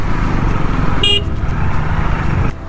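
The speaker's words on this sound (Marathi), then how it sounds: "हे बघा इथे तर ट्रॅफिकच झालंय" Traffic jam near a crowded temple in Kokan: a continuous engine and road rumble with a short, sharp car horn toot in the middle.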